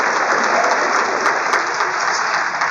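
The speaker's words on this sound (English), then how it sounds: "let's clap it up for them and thank them very much" Dense, steady applause from an audience thanking a high school Black alumni panel, loud and sustained for the whole stretch with no break.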